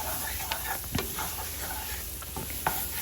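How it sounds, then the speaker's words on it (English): Diced celery and onion stirred into a hot roux for gumbo, giving a soft continuous sizzle with scattered scraping stir strokes from a spoon in the pot, close and moderately quiet. "your celery, and your onion. Diced up and stir it in"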